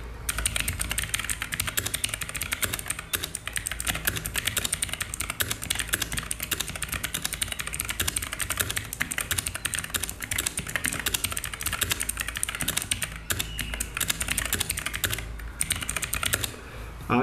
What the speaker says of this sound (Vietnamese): Bây giờ mình sẽ gõ một đoạn văn bản cho các bạn cùng nghe cái tiếng click key của em này nhé.